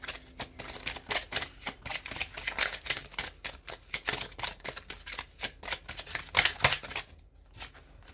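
Kipper tarot cards being shuffled and drawn, with a rapid run of crisp, close card flicks and riffles that stop abruptly near the end, with no voices.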